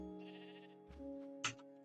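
A sheep in the modded Minecraft pack Crazy Craft bleats once, a short wavering baa standing out against a quiet, steady tonal background.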